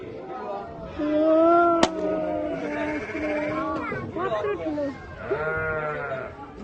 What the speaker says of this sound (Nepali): यहाँ मेरो भेडा छ है फेरि